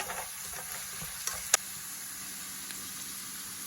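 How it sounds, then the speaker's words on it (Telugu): Onions and green chillies fry in a pan for a green eggplant curry, giving a faint steady sizzle with a few soft stirring scrapes and one brief sharper clink, no voices. "ఉల్లిపాయలు బాగా వేగాయండి"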